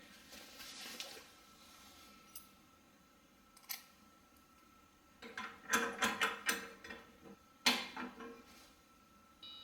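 A ratchet tightens a mounting bracket on a Samsung electric glass-top range: scattered clicks at first, then a dense run of quick ratcheting clicks and a final sharp burst, with quiet pauses between.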